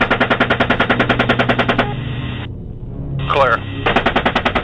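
Machine gun fire from an attack helicopter in wartime combat rattles out in rapid, loud, evenly spaced bursts, broken by a short gap in which a clipped radio voice speaks before the firing resumes.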